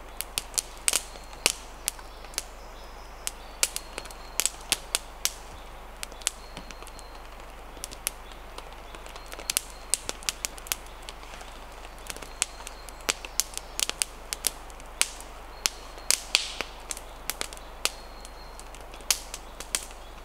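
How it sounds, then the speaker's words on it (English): A campfire burning resinous wood crackles and spits steadily, with frequent sharp pops and snaps scattered irregularly over a quiet background, heard close by and with no talking. "Very spitty fire because of the material that I'm using is quite resinous"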